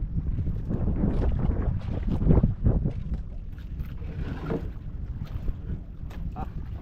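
A large wooden bangka boat moves over the water with choppy sloshing, wind buffeting and a rough rumbling wash, loud and close throughout.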